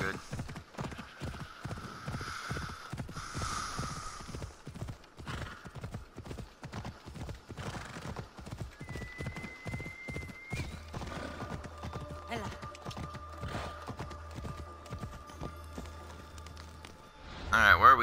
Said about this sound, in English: Let's go. Come on, we'll ride you back.